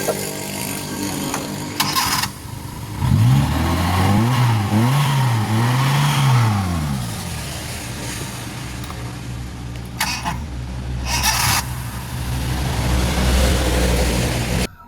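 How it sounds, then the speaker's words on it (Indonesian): A Suzuki Carry 1.0 engine runs close by, a steady idle with a rising and falling rev in the middle and two short sharp noises partway through, and no talking. "ini mesinnya juga masih enak banget lur"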